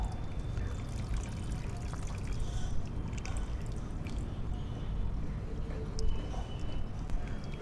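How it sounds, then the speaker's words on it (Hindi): Water is poured into a rooftop pot planted with a lotus tuber, making a soft, steady splashing trickle that runs quietly and continuously throughout. "जरी रखी पानी देवे।"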